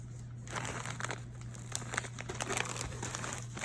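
A plastic Doritos snack bag is handled and crinkled up close, with a steady run of crackling rustles and sharper crinkles lasting a few seconds, fairly quiet over a low hum.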